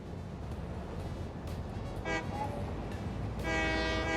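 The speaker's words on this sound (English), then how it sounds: "I hear the whistle." A train whistle sounds in the video game Satisfactory, two harmonic blasts over a steady rumble of rail machinery.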